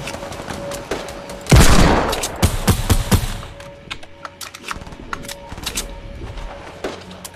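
Rapid bursts of gunfire ring out in the Fortnite video game, with a loud burst near the start followed by scattered lighter shots and clicks over a continuous game background; no talking.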